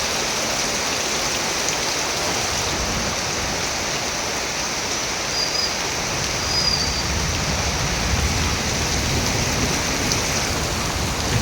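A heavy rainstorm pours down without pause, a loud, dense hiss of rain striking the ground and standing floodwater that stays even throughout.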